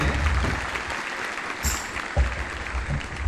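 An audience at a church diocese youth convention in Jambahal applauds, a steady wash of many hands clapping at moderate loudness with a few sharper claps standing out.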